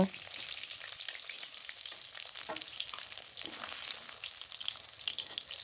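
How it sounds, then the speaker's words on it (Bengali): Fish frying in oil in a pan for a fish curry with cauliflower and potato, a faint, continuous sizzle and crackle with no voices. "এবার দেখো মাছগুলো আমার এপিট ওপিট ভাজা হয়ে গেছে।"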